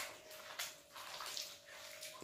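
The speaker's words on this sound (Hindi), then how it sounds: "ये देखो पानी बाहर तक आने लगा" Water pouring and splashing steadily as it overflows from a room flooded with water, a broad rushing wash with a few louder surges, close by.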